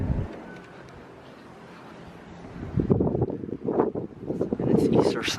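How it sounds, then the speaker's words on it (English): Outdoor wind buffets the microphone on a breezy day outside a bike shelter. Gusty low rumbling starts soft and grows louder and rougher in the second half, with a voice faintly audible alongside. "it's pretty windy right now"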